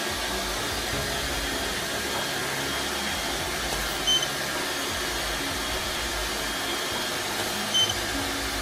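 A blower fan runs at a photo shoot, blowing hair during a behind-the-scenes maternity session, and gives off a steady, loud, broadband whoosh that continues for the whole stretch with no talking.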